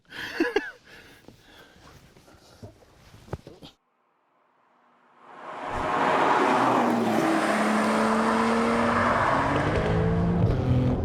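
A 2021 Porsche 911 Turbo pushed hard through a corner, starting with scattered clicks and knocks, then a short quiet stretch, then a loud rising engine roar that holds steady and close as the car drives on.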